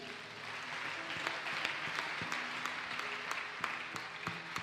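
A church congregation claps during a worship service, a steady, fairly distant wash of applause from many hands with scattered sharper claps standing out.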